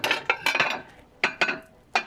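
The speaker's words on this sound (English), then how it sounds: "Let me grab a plate." Dishes clink and knock sharply as a plate is grabbed, a few quick separate clatters close by with short pauses between.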